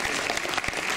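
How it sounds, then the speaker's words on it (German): Audience applause for award winners at a prize ceremony at a trade fair, dense steady clapping filling the whole moment without a pause. "Einmal drei Gewinner in der Kategorie Gold und nochmal einen Applaus."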